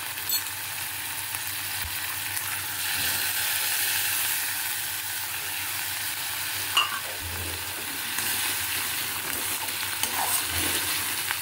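Sliced onions sizzle and fry in a pan for a bottle gourd and prawn dish, a steady hiss broken by occasional stirring scrapes and clinks, close and moderately loud with no talking.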